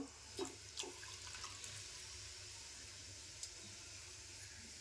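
Steady running water gushes continuously, with a few light clinks near the start, as spice pots are rinsed under a tap.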